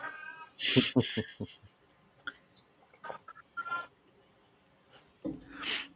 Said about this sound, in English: I apologize. That's my cat.